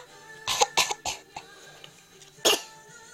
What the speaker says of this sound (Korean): 이게 콜록콜록인데?